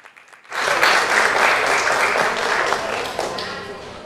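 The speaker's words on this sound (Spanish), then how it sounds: "Le damos un aplauso de bienvenida" After a brief quiet moment, a university audience breaks into warm, sustained applause that holds steady for several seconds.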